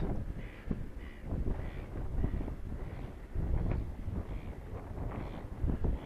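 Steady wind buffeting a microphone on a hillside while a Nubixla 2 glider slope-soars, a continuous low rushing roar with gentle gusts.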